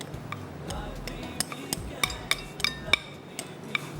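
Flour is being mixed into pancake batter for double chocolate pancakes in a bowl, heard as quick, irregular clinks and taps of a utensil against the bowl, close by and moderately loud.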